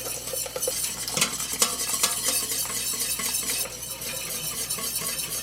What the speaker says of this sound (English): I'm whisking in 1 cup of beer. This beer is at room temperature.